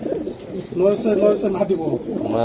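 Racer pigeons at a breeding farm coo steadily and close, with deep, throaty repeated calls, while faint talk runs underneath.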